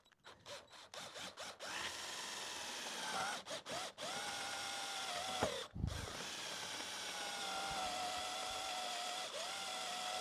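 A power drill whines steadily as it bores into wood, with a few short starts and stops early on before one long continuous run.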